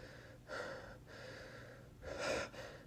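Two sharp, breathy gasps for air, close and fairly quiet, separated by a stretch of heavy, labored breathing.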